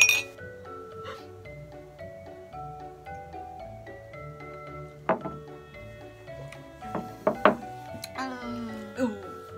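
Glasses of soda clink together in a toast, a few bright, ringing taps, with voices chatting around them in a quiet room.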